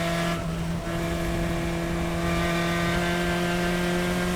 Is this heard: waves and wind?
no